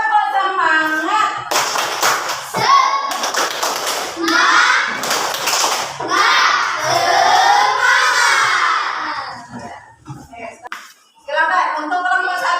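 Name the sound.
schoolchildren doing a rhythmic spirit clap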